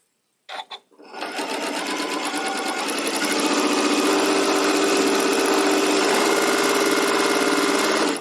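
A sewing machine stitches fabric pieces for a quilt block, starting with a few short clicks and then running in a steady, fast, loud mechanical whir for several seconds.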